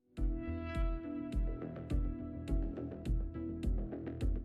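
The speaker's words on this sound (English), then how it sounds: "when you jump into Black Ops 7, the menu will of course sound like this" Black Ops 7 Zombies menu music plays steadily, with rhythmic low pulses and bright percussive hits recurring about every half second over sustained tones, full and clear with no talking.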